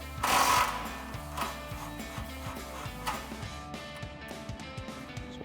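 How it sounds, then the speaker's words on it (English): An impact wrench with a 13mm swivel socket on an extension unbolts an exhaust clamp on a Challenger, opening with a loud burst, then a rapid rattling hammer that repeats and fades out. "we're going to use our 13mm swivel socket and extension on our impact. Just lift up here and unbolt our clamp."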